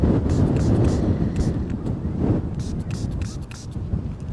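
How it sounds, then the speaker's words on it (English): Strong wind roars and buffets the microphone in heavy low-pitched gusts, surging and easing over a few seconds. "It is so windy, so I've never ever known it to be this windy"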